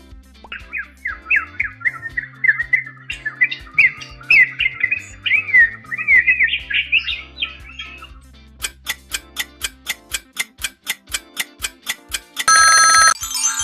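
A lyrebird mimicking other sounds: a rapid run of squawks and chirps, then a series of sharp regular electronic-like beeps and a brief ringing burst, clear and close with no talking.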